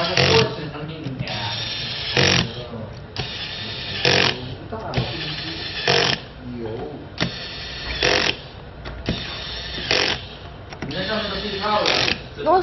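A screwdriver fastens screws while a silicon mat is fitted, producing repeated short bursts of whirring and ratcheting at regular intervals, with people talking between and over them.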